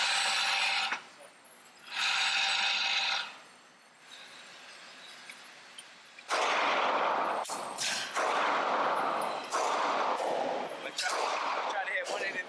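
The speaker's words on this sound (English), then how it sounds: "here about to do the 380 on my Glock 42." A Glock 42 pistol fires .380 rounds at an indoor range, giving several sharp, loud reports at irregular intervals with echoing decay, mixed with bursts of nearby noise.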